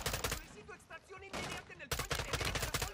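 Bursts of rapid gunfire from the shooter game Modern Warfare 2 (2022), loud and close, with clustered volleys and a sharp renewed barrage partway through, while a voice talks faintly underneath.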